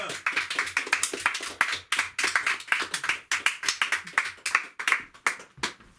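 Studio audience on a French television game show claps in sharp, uneven bursts over about six seconds, close and fairly loud, with some voices mixed in.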